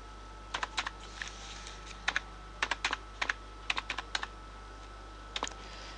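Keys clatter on a computer keyboard during Microsoft Word document editing, with close, crisp bursts of clicks in short clusters separated by brief pauses, alone over a quiet background hum.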